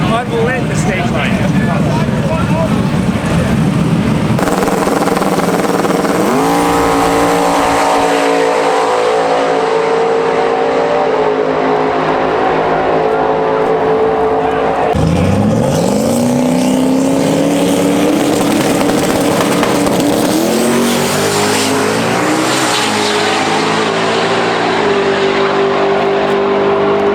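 A Lamborghini at the TX2K drag racing event, loud engines revving and roaring close by with rising pitch sweeps as it launches and accelerates, crowd talk and track noise throughout.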